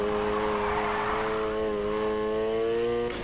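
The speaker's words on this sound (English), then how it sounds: "Keep that drift going." A car drifting in Need For Speed Heat gives a loud, sustained engine drone with shifting pitch and a tire squeal blended in, continuous for about three seconds before cutting off.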